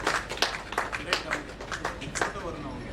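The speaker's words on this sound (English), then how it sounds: "A big round of applause for our Selva Kumar sir." Scattered hand clapping from a seminar audience on real estate, GST and RERA, a handful of sharp claps in loose rhythm, with a voice speaking underneath.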